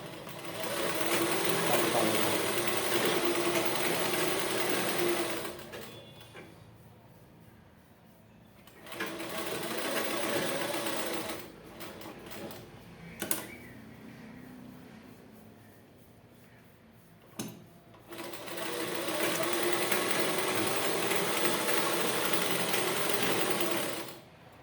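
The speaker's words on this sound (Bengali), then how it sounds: "এটা আবার আমি সেলাই করে নিব" A sewing machine stitches a ladies' dress lining in loud, steady bursts, running for several seconds, pausing, restarting briefly, then running again at the end, with quiet gaps between the runs.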